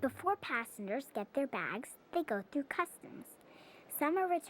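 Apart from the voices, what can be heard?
No everyday noises stand out.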